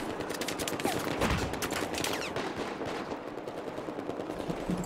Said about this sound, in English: Shooting you in the chest, taking your flag.